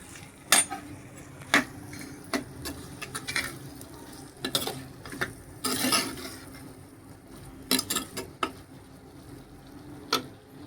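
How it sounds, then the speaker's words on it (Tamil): Eggplant frying in oil in a pan for a dried anchovy dish, with steady soft sizzling broken by repeated sharp spatula scrapes and clinks, close and fairly quiet, no talk. "எண்ணெயில் நல்லா கத்திரிக்காய் ஃப்ரை ஆகணும், அப்போ தான் டேஸ்ட் நல்லாவே அள்ளும்"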